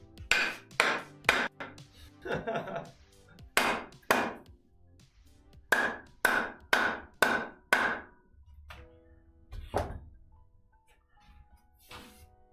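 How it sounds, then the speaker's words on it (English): Repeated sharp hammer blows, loud and close, coming in uneven bursts with short pauses between groups of strikes. "Let's hit it with something. I gotta find a hammer."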